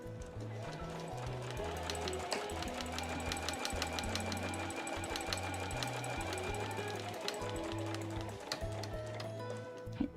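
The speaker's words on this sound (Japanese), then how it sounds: "中央の線を縫うときはこのポケット口に針を刺して返し縫いからスタートします" Sewing machine stitching the center dividing line of a small fabric tote bag, a fast, continuous rhythmic needle clatter with a low motor drone that speeds and slows in steady bursts, close and clear.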